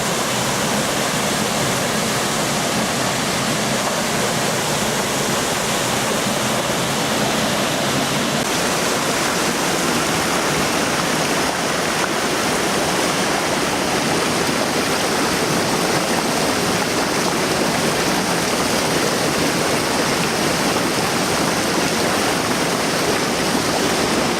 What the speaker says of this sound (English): Another very noisy weir that we're about to cross.